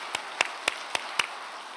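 Five sharp, evenly spaced hand claps ring out in a church during a Sunday morning service, crisp and fairly close, with brief reverberation between each clap.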